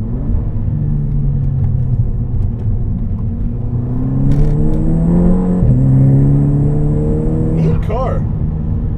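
Big-turbo Volkswagen MK6 GTI with limited-slip differential accelerating through the gears, heard from inside the cabin as a loud rising engine drone with a gear-change dip, a turbo whistle above it, and someone talking over it.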